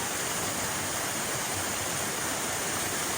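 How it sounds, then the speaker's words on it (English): A small cascading waterfall in a ravine roars close by as a dense, steady rush of falling water that fills the whole stretch without pause. "So this is a nice little cascading waterfall."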